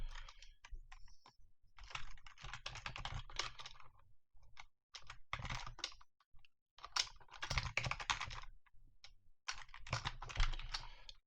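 Code typed on a computer keyboard for a Unity mobile game, with rapid clattering keystrokes in uneven bursts separated by brief pauses, close and clear with no voices.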